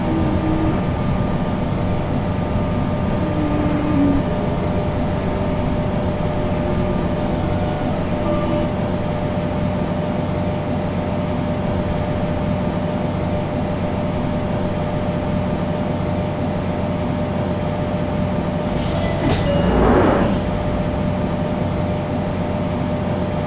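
A London Underground train runs on the rails toward Cannons Park on a Stratford-bound service, with a steady loud rumble and hum throughout, brief wheel squeals midway and a louder screech near the end.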